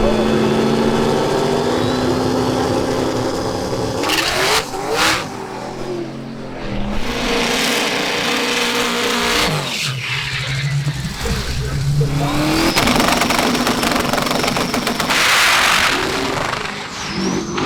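A huge drag racing car roaring at full throttle down the strip, a loud sustained engine blare with rising and falling pitch, heard under an excited commentator's voice.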